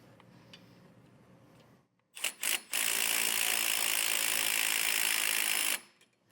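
Hand ratchet snugging down a bracket bolt on a Firestone Ride-Rite rear air helper spring, a couple of short clicks then a loud continuous rapid ratcheting for about three seconds, close up, no talking.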